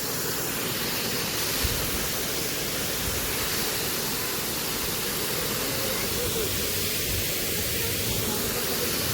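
Water rushes over a lake dam after rain, a loud continuous roar of overflowing water, dense and steady for the whole stretch.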